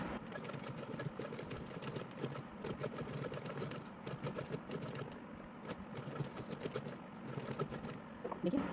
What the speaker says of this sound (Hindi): यहाँ मैं लंबी चाल करके धीरे धीरे इसी मशीन से सिलने की कोशिश कर रही हूँ